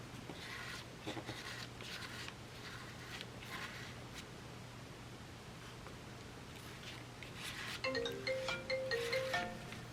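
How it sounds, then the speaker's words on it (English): A mobile phone ringtone starts up near the end, a short bright melodic chime rising over quiet rustling and handling noises at a craft table. "There goes my phone."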